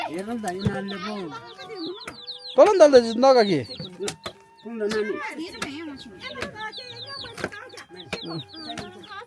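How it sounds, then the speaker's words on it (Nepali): Chickens cluck and squawk nearby, with one loud burst of flapping and cackling, while people talk over them. "अब कुखुरा नि टन्नै रहेछ त"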